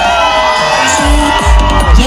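A crowd at a district employees' sports and culture meet prize ceremony cheers and chants slogans, loud and close, with voices overlapping in a brief burst of noisy celebration.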